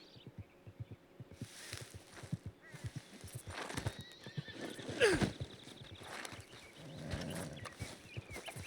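A horse whinnies loudly amid steady clip-clop hoofbeats in Red Dead Redemption 2, with game-like background sounds around it.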